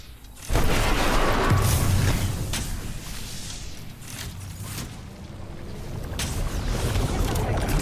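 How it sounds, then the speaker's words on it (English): A grenade blast in the video game Apex Legends hits with a sudden loud boom, then a long rumbling decay of debris and battle noise, with no talk over it. "Grenade, watch out."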